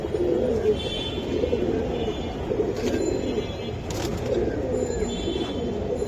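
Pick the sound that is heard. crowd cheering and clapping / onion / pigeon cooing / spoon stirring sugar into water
pigeon cooing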